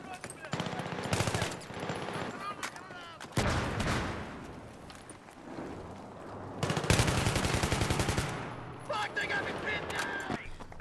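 AUG A3 rifle fire in Battlefield 3 close-quarters play at Donya Fortress, with several rapid bursts of automatic fire between quieter stretches, and a voice talking over the game.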